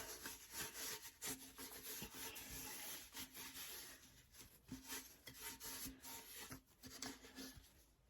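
Dry cloth rubbing wax into an aged metal watering can gives steady scratchy friction with repeated short strokes, close and fairly quiet, no voices.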